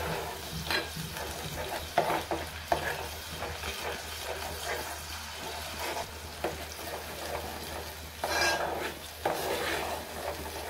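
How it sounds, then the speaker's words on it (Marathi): Raw onion sautéing in a pan for a bombil fish rassa, with a steady sizzle broken by repeated scrapes and clinks of a utensil stirring against the pan, close and continuous. "हे मी चांगले परतून घेते"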